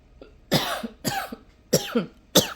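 Four harsh coughs in a row, close and loud, each a short burst with brief gaps between them.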